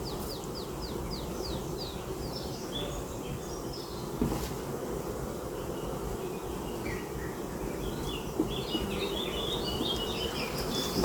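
Honeybees hum at a beehive in a continuous low drone, close by and fairly quiet, with bird calls chirping in the background.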